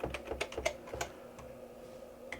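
Typing on a Multitech MPF-III computer keyboard, an Apple II clone, with a quick burst of clacking keystrokes followed by a few sparse presses, close and fairly quiet.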